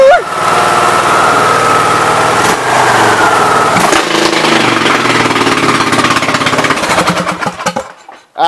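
An 18.5 horsepower motor fires up and runs loud and rough with a rapid hammering clatter, its pitch shifting a couple of times before it sputters and dies out.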